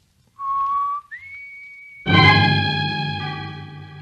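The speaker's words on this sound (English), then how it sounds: "Dale whistles the warning signal to Roy and Jonah." A warning signal whistled in a radio drama: a short steady tone, a brief pause, then a rising glide into a long sustained note that turns louder and fuller, clear and close with no talking.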